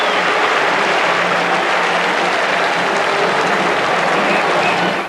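A large cricket crowd at a 1996 Pakistan versus West Indies one-day final applauds a batsman's half century, a loud dense roar of clapping from the stands that stays constant throughout.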